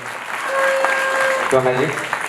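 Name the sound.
audience applause for performer Shrishaila Poogar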